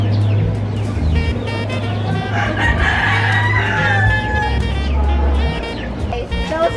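A rooster crows on a Sunday morning in a residential neighborhood, its call rising over steady low traffic rumble and a car passing nearby, with other birds faintly chirping in the background.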